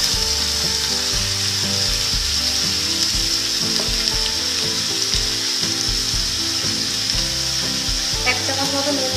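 Raw jackfruit for a vegetarian curry fries in a pan with a loud, continuous close sizzle, broken by occasional stirring scrapes, with no one talking.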